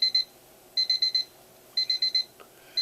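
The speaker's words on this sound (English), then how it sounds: "It's my alarm clock." An alarm clock rings in rapid bursts of four sharp, high electronic beeps, with the groups repeating at a regular pace about once a second and sounding close and clear.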